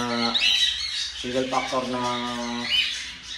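Several birds squawk and chirp loudly and continuously at close range, with harsh, raspy calls overlapping throughout, while someone speaks over them.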